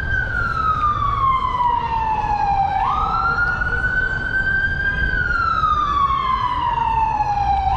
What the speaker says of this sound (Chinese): 救护车的。